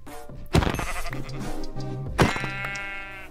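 Sheep in Minecraft bleat twice, close and fairly loud, with a short gap between the two wavering calls and no talk over them.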